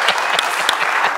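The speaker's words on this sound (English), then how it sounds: "That's an applause line." Audience applause at a Sanders Institute gathering on Medicare for All, a dense steady burst of clapping with a few sharp individual claps standing out, loud and close.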